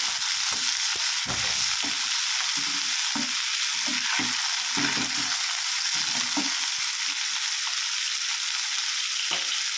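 Bitter gourd slices frying in hot oil in a home kitchen, a loud continuous sizzle with repeated stirring and scraping strokes throughout, close by.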